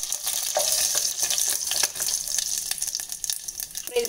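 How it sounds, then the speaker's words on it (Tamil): Mustard seeds crackle and splutter in hot oil with cumin, a dense continuous hiss dotted with sharp pops throughout, close and fairly loud with no talking. "நம்ம கடுகு பொரியுது, சீரகம் கொஞ்சம் சேர்த்து தாளிச்சிக்கலாம்."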